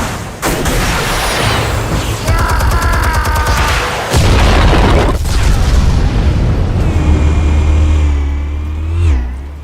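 Armed explosives go off in Batman: The Telltale Series video game, a loud booming blast with rumbling low end and layered game sound effects, sustained and close for several seconds with no voices.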